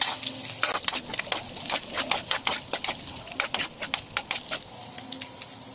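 Ginger and onion sizzle in a pan of hot oil for a chicken Bicol Express, with a spoon or spatula scraping and stirring in quick, irregular strokes over a constant frying hiss.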